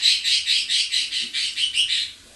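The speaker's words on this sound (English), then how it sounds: "What you squawking?" A pet bird squawks close by in a quick run of about ten harsh, evenly spaced calls, loud and alone with no talk.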